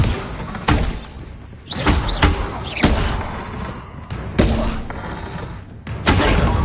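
Explosive spell blasts from Hogwarts Legacy, a series of heavy booming thuds spaced roughly a second apart, each loud with a short decaying tail.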